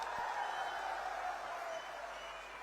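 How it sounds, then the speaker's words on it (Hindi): Sustained applause from a large crowd at an outdoor political rally in Saraikela, a continuous dense clapping wash that eases slightly toward the end. "इसलिए दोबारा ताली बजाओ जरा।"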